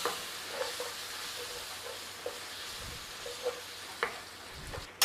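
Tomato paste being stirred into onions sizzling in a pan, a steady frying hiss with scattered soft scrapes and clinks of the spoon, ending in a louder knock.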